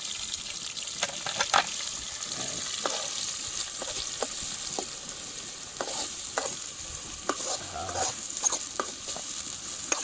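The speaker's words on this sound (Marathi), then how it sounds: "मस्तपैकी घेऊया कांदा भाजून" Onions frying in a pan over an outdoor wood fire, a continuous crackling sizzle with frequent spoon scrapes and taps against the pan, close and fairly loud.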